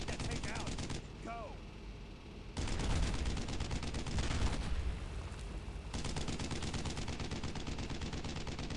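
Rapid machine-gun fire in a WWII Brothers in Arms battle, long steady rattling bursts with short pauses between, fairly close, and a few shouted voices in the mix.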